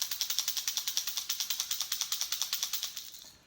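Pachinko fishing lure shaken steadily, giving a fast, regular, bright rattling click repeated about six times a second, close and fairly loud, then fading out near the end.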